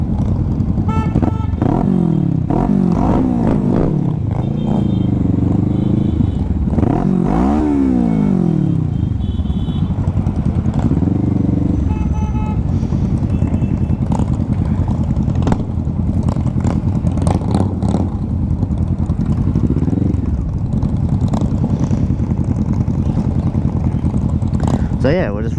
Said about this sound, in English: A few people are tooting their horns, some people are revving their engines.